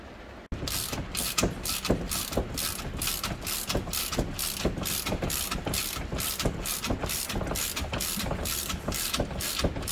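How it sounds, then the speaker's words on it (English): A spring compressor ratchets on the suspension of a Yamaha Rhino 660, clicking in a steady, rapid series of sharp metallic pawl strikes close up, continuing evenly without talk. "now I'm going to finish compressing the spring so that I can cut that bushing out"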